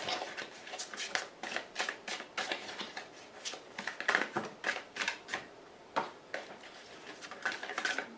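Tarot cards being shuffled by hand in a quiet room, a steady run of crisp riffling bursts and slaps repeating throughout, close and clear with no talking.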